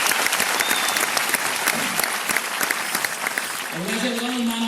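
Audience applauding as a founder's name is announced at a stage event, steady dense clapping through the whole stretch, with a voice speaking over it toward the end.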